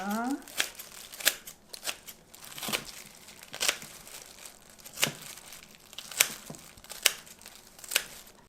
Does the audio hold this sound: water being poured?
no